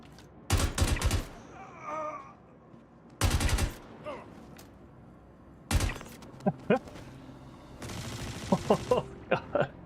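Gunfire in the video game Star Citizen, several loud bursts of rapid automatic shots separated by pauses, with scattered impact clatter and faint groaning in between.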